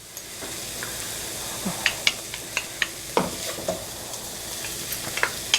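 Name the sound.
chopped garlic sizzling and stirred in a pan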